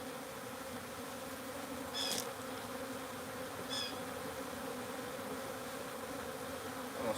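Honeybees buzz steadily around a beehive in a garden, a close continuous hum with a couple of brief louder passes near the microphone.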